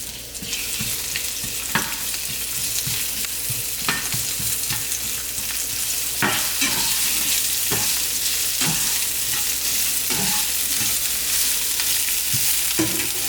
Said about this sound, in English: I always saute my onions first